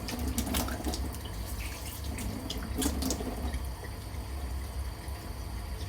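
Tap water runs steadily into a bathroom sink while cupped hands fill to wet a face, a continuous close splashing wash with a few brief splashes.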